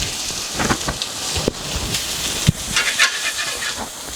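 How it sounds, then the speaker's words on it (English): Mushrooms sizzling in a smoking-hot oiled pan, a dense continuous hiss and crackle with occasional sharper spits and pops throughout. "I'm spreading the mushrooms out,"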